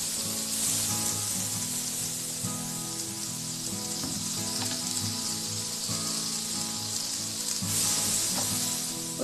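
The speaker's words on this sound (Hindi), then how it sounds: "मैं बटर डाल रही हूँ, उसको मेल्ट कर लेती हूँ।" Butter melting in a pan as bread is toasted for suji toast, giving a steady, close sizzle that runs throughout with light scraping and clinks over the top.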